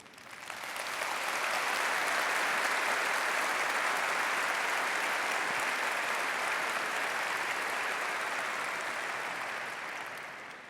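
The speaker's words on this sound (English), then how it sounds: "Wait, you clapped like you thought I was done." Sustained applause from a large audience of Rotarians gathered for an international event welcome, swelling quickly and holding steady for about ten seconds before tapering off, with no voices over it.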